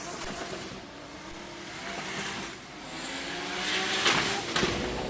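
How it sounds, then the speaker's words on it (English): A loud, buzzing Nissan S13 drift car engine held on the rev limiter, droning steadily with a brief dip, then climbing with a screech of tires near the end, at a drifting competition in Malaysia. "Keeps the car hanging out there on the rev limiter."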